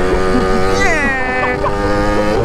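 A Yamaha RX-King two-stroke motorcycle revs outdoors, its engine note rising sharply in pitch and then falling back, with people's voices close by.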